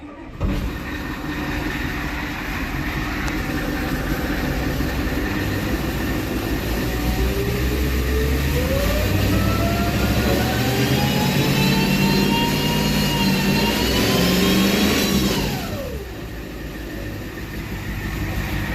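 A Ford 7.3 IDI diesel engine running with a small supercharger blower, a loud steady rumble under a rising mechanical whine that climbs for several seconds, then drops away as the engine settles.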